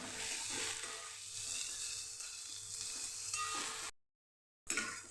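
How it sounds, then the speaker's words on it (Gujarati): Green onions sauté in a pan for a Kathiyawadi green onion and gram flour curry, giving a steady close sizzle that runs unbroken for several seconds, cuts to silence, then resumes briefly. "ડુંગળીનો સેજ કલર ચેન્જ થાય ત્યાં સુધી આપણાને સાતડવાની છે"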